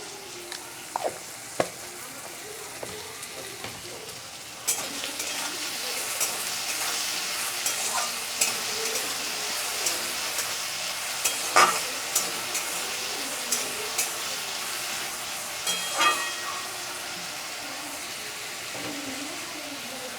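Potatoes frying with salt in a pan, a continuous soft sizzle broken by repeated stirring clicks and scrapes throughout.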